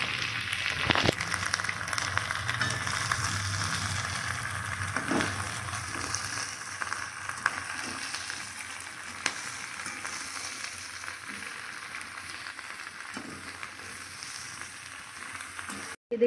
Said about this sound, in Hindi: अभी डल गया, अब इसको हम अच्छी तरह से चला लेंगे।